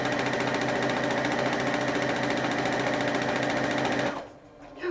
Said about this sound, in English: if I have time, I'll start sewing.